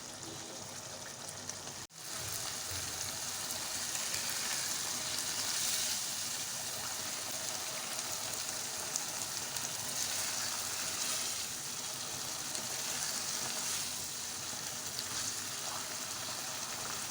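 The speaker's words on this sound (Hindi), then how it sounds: "हाई फ्लेम पे ही हम इसका सारा पानी ड्राई कर लेंगे" Ridge gourd (turai) sabzi with fresh coriander fries on a high flame as its water cooks off, giving a steady, dense, close sizzle throughout with no talking.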